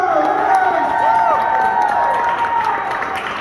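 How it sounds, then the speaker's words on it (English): A live audience claps and cheers steadily for a performer being introduced on stage, a dense, continuous wash of applause and shouts that holds at a fairly even, loud level throughout. "I want you to start clapping. I want you to get energy on it."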